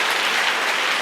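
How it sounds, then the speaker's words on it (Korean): A church congregation clapping together during an anniversary worship service, a brief dense burst of steady applause from many people filling the room. "우리를 지금까지 지켜주신 하나님께 다시 한번 우리 큰 박수로 영광을 올려드리겠습니다"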